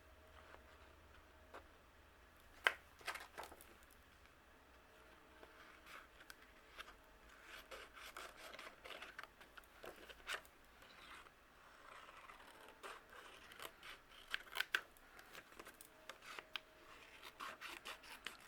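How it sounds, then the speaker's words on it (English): Scissors snip around an acetate shape for a cardmaking project, a faint run of small ticking cuts and soft rubbing over about eighteen seconds, close and quiet with one sharper click early on. "Just using our scissors."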